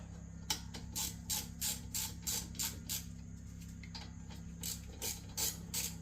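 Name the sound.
ratchet tightening brake caliper bolts snug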